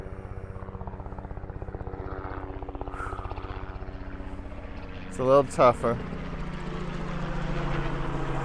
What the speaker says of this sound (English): The helicopter's flying pretty low